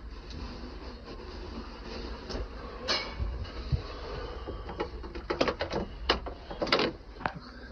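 Inside a moving sleeper train: a steady low rumble and hiss of travel, with occasional rattles and clunks from the carriage.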